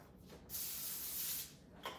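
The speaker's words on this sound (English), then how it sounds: "We can go ahead and spray this as well." A single hissing burst of cooking spray onto a cookie tray lasting about a second, close by, followed by a brief short puff at the end.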